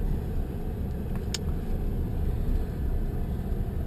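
Ford truck engine with 385 horsepower, a steady low rumble from inside the cab while driving, continuous with no talking.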